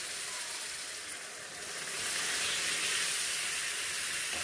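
Milk poured into carrot halwa (gajrela) cooking in a pan, a dense hissing sizzle that swells louder after about two seconds and stays steady, with no voices.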